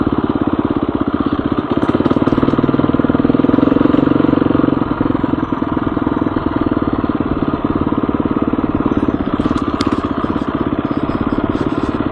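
A motorcycle engine idles along steadily at low revs on a ride, its rumble loud and continuous throughout with no voices.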